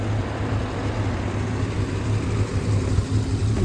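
A John Deere-style 725 tractor engine idling while warming up on a cold winter day, a steady low rumble with a continuous even drone, close by and without talk.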